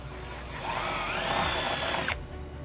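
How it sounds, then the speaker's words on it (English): A power drill with a 3/16-inch bit whirs steadily for about two seconds, drilling a hole in a Toyota Highlander bumper, its pitch rising slightly as it bores through, then cuts off abruptly. "we're gonna drill our first hole using a 3/16 drill bit"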